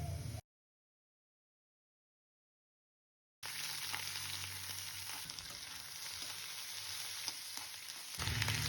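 Cloves, chili and cumin spitting in hot oil for a dry fish curry, a steady close sizzle that starts abruptly after a short silence and swells slightly near the end.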